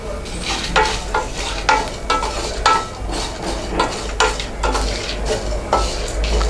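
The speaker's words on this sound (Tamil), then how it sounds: "பொன்னிறம் ஆகிற வரைக்கும் நம்ம ரோஸ்ட் பண்ணிக்கலாம்" Dried red chillies and black pepper roast in a hot pan, a steady crackling sizzle broken by repeated scraping strokes of a spoon stirring them about, close and fairly loud with no voices.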